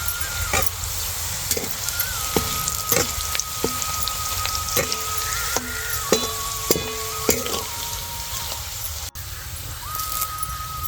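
Onion frying in hot oil for Indian puri bhaji, a steady close-up sizzle and crackle with the clack of a spoon stirring the pan at irregular intervals throughout.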